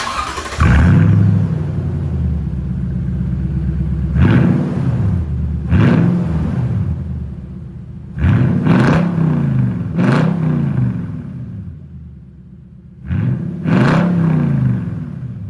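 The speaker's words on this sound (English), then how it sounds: "now that we've heard what it sounds like with just a straight pipe" A Toyota Tundra engine with a straight-pipe exhaust and no muffler idles with a loud rumble and is blipped again and again into sharp, raspy revs that fall back between bursts, close and unmuffled.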